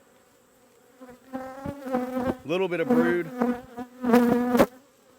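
Honey bees swarm and buzz loudly over an open hive during brood box management, a close, dense droning that swells and fades while someone talks over it.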